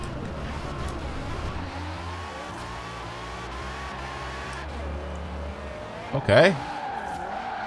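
A V10-swapped BMW Z4 with drift suspension drifts in Forza Horizon 4, its engine droning steadily with shifting pitch, then a short sharp tire screech and rev burst near the end, with a brief spoken word.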